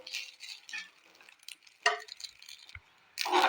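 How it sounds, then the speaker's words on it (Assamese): Rice fries in ghee in a pan, with soft sizzling under intermittent scraping stirs from a spoon, close and without talk, ending in a louder stir. "এই চাউলখিনি ভালকৈ ঘিত ভাজি ল'ব লাগে"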